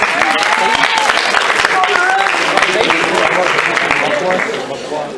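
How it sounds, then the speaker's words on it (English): Campus speech-day audience applauding to welcome a speaker, loud and dense clapping from a large crowd with some cheering voices, fading slightly at the end. "let's welcome him with a very loud round of applause"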